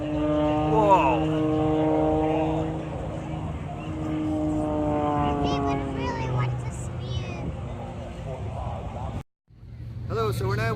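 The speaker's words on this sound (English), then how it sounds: "now there's just like a little acrobatic propeller plane and that's a lot quieter" A small aerobatic propeller plane drones overhead at an air show in Scotland, its engine pitch rising and falling as it maneuvers, steady and moderately loud, with a brief cut near the end.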